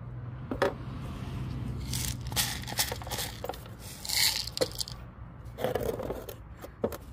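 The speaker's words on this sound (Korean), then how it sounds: "뿌리는 안 되는 애들은 그냥 잘라주세요." Scissors snipping through plant roots while repotting a houseplant, with several crisp cuts and scraping rustles at a close, moderate level, and no talking.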